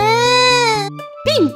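A voice imitates a baby crying during toy play with baby dolls: a long, loud, sustained wail, a short break, then a rising and falling cry that cuts off.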